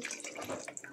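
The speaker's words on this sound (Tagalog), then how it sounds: "Mag-add ako ng tubig." Water is poured into a pot while cooking pancit malabon, giving a brief, soft splashing trickle that lasts about a second at low volume.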